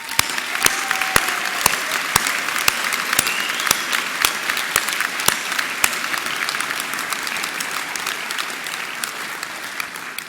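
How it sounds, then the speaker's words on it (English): A graduation ceremony audience applauds, a dense sustained roar of many hands clapping throughout, loud and near, with no voices over it. "I think you all deserve a round of applause"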